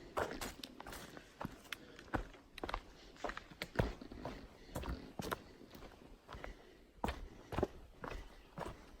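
Quick footsteps descend a rocky stretch of the Appalachian Trail in Vermont, crisp irregular crunching steps on boulders and dirt, close and fairly steady in pace, with no talking.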